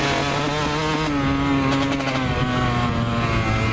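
Kawasaki KX 125 two-stroke dirt bike being ridden, a loud, buzzing engine drone held near steady with slight pitch shifts as the throttle changes, close to the microphone.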